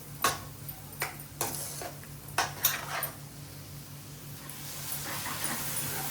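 Ground masala and mushrooms being stirred in a pan for a gravy base, with a spoon scraping and clinking against the metal in several sharp knocks, followed by a steady soft sizzle and shuffle.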